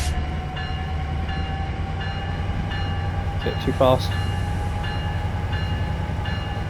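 A train in a train-driving game on the San Bernardino LA route: a steady rolling rumble with a short horn-like blast partway through, while someone talks over it.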